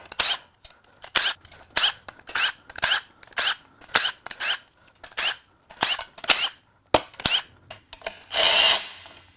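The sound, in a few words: power tool removing Subaru EZ30R lower oil pan bolts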